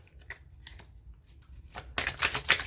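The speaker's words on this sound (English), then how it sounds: "I'm just going to continue to keep shuffling." Tarot cards being shuffled by hand: soft, rapid riffling and papery flicks in short bursts that grow louder and denser toward the end, close and with no voices.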